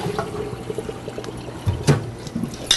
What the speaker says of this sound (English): they're going right in my boiling pot